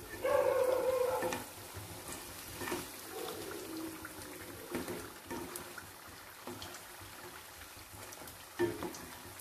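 Chicken and noodle Chinese samosas deep fry in hot oil, a busy bubbling crackle with soft liquid churning and occasional louder pops, fairly quiet and close.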